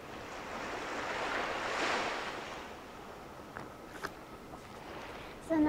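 Ocean surf washing onto a beach, a steady broad wash swelling and easing, with wind rushing across the microphone and a few faint brief knocks near the end.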